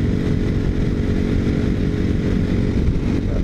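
A KTM motorcycle engine runs close and loud at a steady, buzzy high idle or cruise, a continuous droning tone throughout with no voices.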